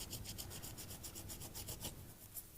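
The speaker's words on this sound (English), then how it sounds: "I'm just going to use a scrap piece of leather and I'm going to just rub that extra glue off" A scrap piece of leather rubbed repeatedly over a leather bookmark to clear off excess glue, giving quiet rhythmic scuffing strokes in a steady back-and-forth pattern, close and soft.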